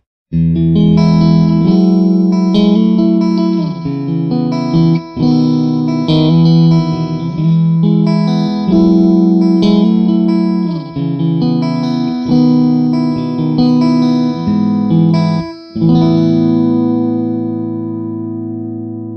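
An electric guitar plays chords and riffs through an amplifier, loud and sustained with a slightly overdriven tone, no voices.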